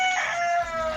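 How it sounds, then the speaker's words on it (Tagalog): A single rooster crow, one drawn-out call at moderate distance, fairly faint against a quiet background. "May manok."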